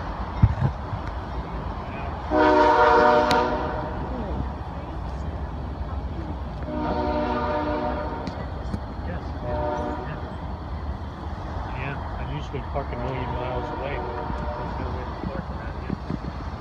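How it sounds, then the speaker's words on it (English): A CSX freight train rolls through Bergen Field, its horn sounding in several long blasts under a steady rumble of passing railcars, heard from trackside at moderate distance. "CSX train, that's nice."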